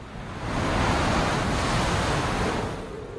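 Swirling tides and wind: a broad, soft rush of surf and gusting air swelling in and fading out, steady and moderately distant with no voices.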